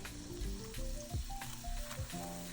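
Toogbei dough frying in hot oil gives a close, soft sizzle and bubbling, overlaid by tonal music notes, with no voices.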